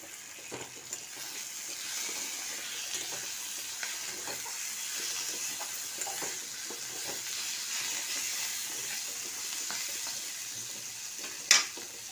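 An egg with chili powder, turmeric, green chili and coriander frying in a pan, a faint, even sizzle throughout with occasional soft ticks and one brief sharp clink near the end.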